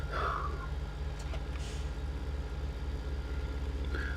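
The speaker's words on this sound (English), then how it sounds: "you can hear the engine start to work now as we're going uphill" A vehicle engine labors with a deep, steady low rumble as it climbs uphill, continuous and close, with faint higher mechanical whines and brief squeals over the drone.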